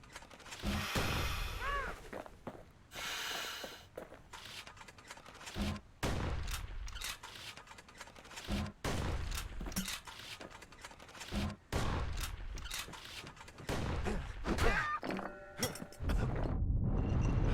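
Gunfire from the Kid's gun in Bastion cracks out in repeated sharp bursts with mechanical clanks between shots, fairly close and alone, with no talking.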